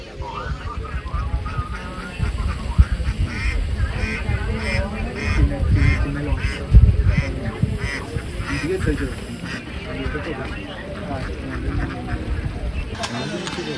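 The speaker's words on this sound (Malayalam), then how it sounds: "പാടവരമ്പത്ത് താറാവ് എത്ര എന്നാ നോക്ക്" Ducks on a paddy field embankment in Muthalamada, Palakkad quack repeatedly in scattered bursts over a low rumbling background, with people talking throughout.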